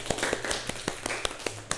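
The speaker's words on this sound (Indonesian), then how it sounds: "tepuk tangan untuk kita semua" A small class in a microteaching lesson claps together in a short burst of sharp, separate hand claps, spaced at a steady rhythm and heard fairly close in a quiet room.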